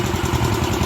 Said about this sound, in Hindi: अब बाइक निकाल रहा है